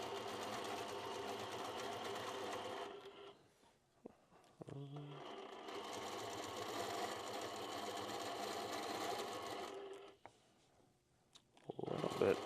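Sewing machine running in long steady bursts while freehand quilting a stabilized table runner, loud and continuous with a short pause and a few clicks between runs.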